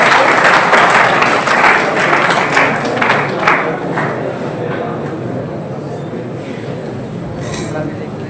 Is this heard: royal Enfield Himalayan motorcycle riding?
no